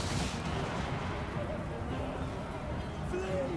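Soldiers' gunfire rattles through a Total War: Warhammer Empire battle, a dense, continuous wash of musket and artillery shots with battlefield babble, steady and fairly loud throughout.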